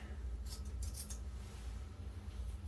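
Several quick scissor snips close by, cutting wig hair in a short cluster of crisp cuts over a low steady background hum.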